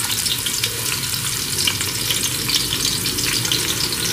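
Onion, garlic and ginger pieces fry steadily in a pan, a loud, close, even sizzle with crackling spatter throughout and no talk.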